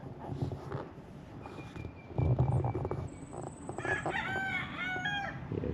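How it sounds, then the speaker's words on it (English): A rooster crows close by amid clucking chickens and other bird calls in Cherry Gardens, Jamaica, with some rustling in the background. "we're just capturing the birds, the sounds of the birds"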